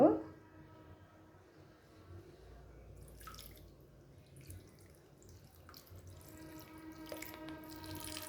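Turmeric water is poured over a child during a bath, making soft, faint trickling and dripping with brief splashes. The sound is quiet and close, with a little background noise.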